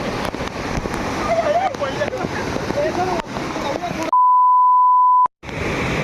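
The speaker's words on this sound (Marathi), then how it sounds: "बघा मित्रांनो, हा आहे वॉटरफॉल." Heavy rushing water of the Dhodhadi waterfall in Palghar, flowing dangerously fast, a loud broad roar with talk over it, cut off by a long steady censor beep before the roar briefly returns.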